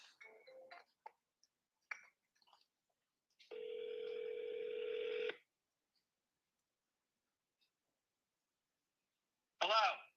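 Telephone voicemail tones on a phone line: a few short clicks, then a steady two-second beep, then silence, with a brief burst of sound at the end.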